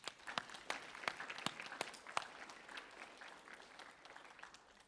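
A school awards ceremony audience applauds student recipients, faint distant clapping from a modest crowd with a few sharper claps nearby, tapering off toward the end.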